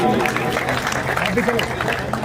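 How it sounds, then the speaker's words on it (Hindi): Crowd applause at a ceremony honoring martyrs of the Rezang La battle, held in Dhawana, India; steady, dense clapping fills the room and runs throughout, mixed with voices. "जोरदार तालियां उनके लिए"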